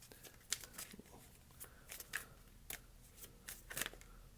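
Tarot cards being shuffled by hand, a quiet run of soft riffling slaps and flicks at an uneven pace, close and faint, with no talking.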